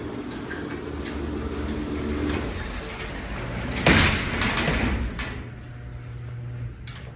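A Dover hydraulic freight elevator door at a jewelry store in a shopping mall rumbles and slides with a heavy clunk partway through, set against a steady mechanical hum and background noise.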